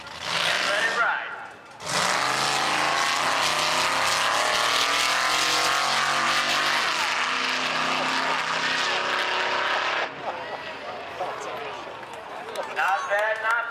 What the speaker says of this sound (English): the little red fire truck is going to put it on the back wheels and let it ride